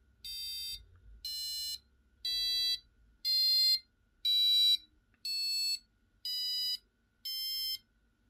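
An Arduino passive buzzer sounds eight short, evenly spaced electronic beeps with half-second gaps, alternating between two tones with the second slightly higher, clear and close against a quiet background.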